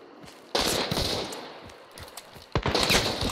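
Rapid bursts of gunfire in the online shooter Hunt: Showdown: a loud volley of overlapping shots, a lull with a few scattered pops, then another dense burst close by.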